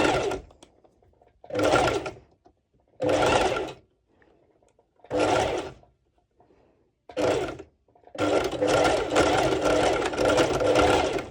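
A sewing machine stitches an underwire channel in short, loud mechanical bursts separated by pauses, then finishes with one longer continuous run of rapid stitching at close range.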